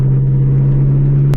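A Corvette engine idles steadily up close, a strong low drone holding one even pitch throughout with a brief rise in noise near the end.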